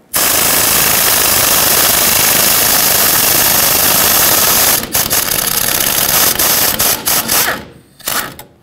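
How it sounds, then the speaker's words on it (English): A wrench works a lower control arm bolt on a 2007-2014 Chevrolet Silverado 2500 HD. A loud, close, continuous mechanical rattle runs for about five seconds, then breaks into choppy bursts before it stops. "I'm using a 15mm wrench to hold it on the bottom."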